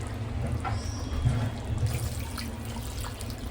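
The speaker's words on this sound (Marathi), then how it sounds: "हे वाफेवरच पाणी आपण त्याच्यात ओतू" Steamed cooking water is poured over boiled chicken in a home kitchen, making a steady, continuous splashing pour that stays close and fairly loud throughout, with no pause.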